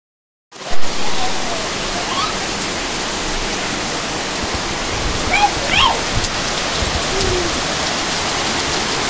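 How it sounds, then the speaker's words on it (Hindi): Heavy rain pouring outdoors, a loud constant roaring wash that begins abruptly and holds steady, with faint bird-like chirps briefly audible over it. "बहुत तेज बारिश, बहुत तेज।"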